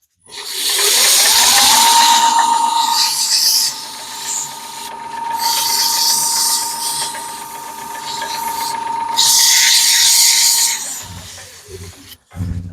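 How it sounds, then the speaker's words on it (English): A wooden crush-grind peppermill blank spins on a lathe while sandpaper is pressed to it, making a steady whirring hum with bursts of raspy friction that swell and fade, then the machine winds down near the end. "Okay, so that takes care of the sanding part"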